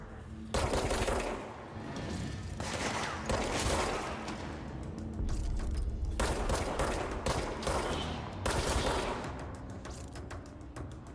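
Rapid bursts of automatic gunfire from the video game Control, loud and dense, firing in several long volleys separated by short gaps.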